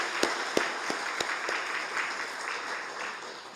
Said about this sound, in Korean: 크게 박수 한번 쳐주시면 좋겠습니다